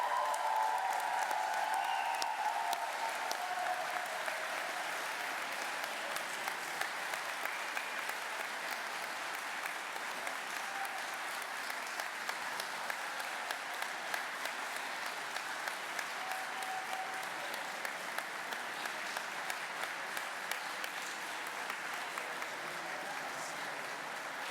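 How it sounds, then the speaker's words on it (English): Sustained applause from a large graduation ceremony audience at a University of Maryland commencement for philosophy graduates, steady dense clapping filling the hall throughout with a faint crowd murmur beneath. "We are not done clapping."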